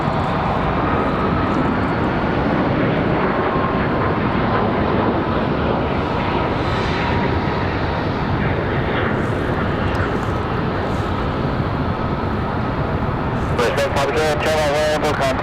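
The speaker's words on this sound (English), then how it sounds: "Nice departure for the United there." A United airliner departs at night from Raleigh-Durham International, its jet engines a loud, continuous broadband roar under occasional speech.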